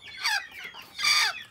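A broody hen warming three eggs on her nest lets out two separate clucking bursts about a second apart, close and moderately loud, with no voices.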